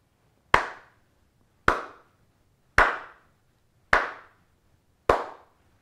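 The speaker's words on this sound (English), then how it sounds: "I can clap a steady pulse at a slow tempo, about 50 beats per minute" Five single hand claps at a slow, steady pulse of about 50 beats per minute, each a sharp, close crack that rings briefly, separated by quiet.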